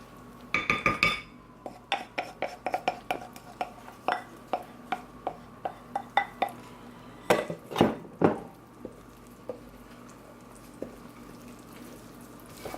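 Wet ingredients being worked into vegan coconut lime blueberry muffin batter, giving a run of clinks and knocks of utensil against bowl, rhythmic at first, then sparser, with no talk.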